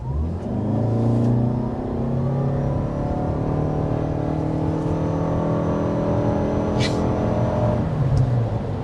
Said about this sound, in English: Off to the races with the RAV4 Hybrid.